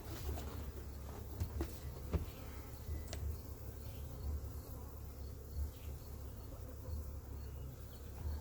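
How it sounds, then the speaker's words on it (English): Honeybees in an opened beehive during a spring split inspection: a dense, continuous low buzz from many bees close by, with occasional faint clicks and knocks from the hive parts, and no talking. "A lot of bees on this inner cover here."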